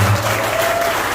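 Brief burst of audience applause at a large seminar in Sukabumi, loud and dense with many hands clapping together.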